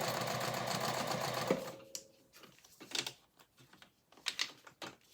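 Sewing machine stitching during a live sewing session, a close, steady run of rapid needle chatter for about a second and a half, then stopping, followed by scattered clicks and fabric handling.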